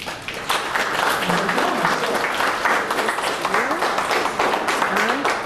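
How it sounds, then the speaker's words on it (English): Warm audience applause at a museum talk on submarine history, a loud, continuous roar of clapping with scattered voices and murmurs mixed in underneath. "Okay, so please give him a warm round of applause."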